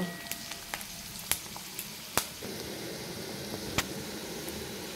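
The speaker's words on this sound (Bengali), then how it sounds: "পেঁয়াজটাকে একটু লাল লাল করে ভেজে নেব প্রথমে" Onions frying in a pan for a flattened rice dish, a soft continuous sizzle with scattered sharp crackles and pops, close and fairly quiet, with no talking.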